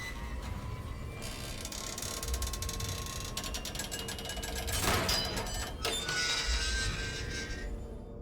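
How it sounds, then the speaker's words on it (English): A metal gate being wrenched open in the Silent Hill 3 video game: continuous grinding, ratcheting mechanical clatter with a louder surge of scraping near the middle, steady and fairly loud throughout. "hopefully that'll wrench the gate open"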